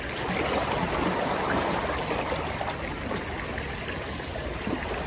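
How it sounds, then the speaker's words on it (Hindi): Big waves and strong wind around a boat: a continuous loud rush of churning water and gusting air with no pauses, no voices. "देखो कितनी बड़ी बड़ी लहरें आ रही हैं। उसके साथ ये तेज हवाएं।"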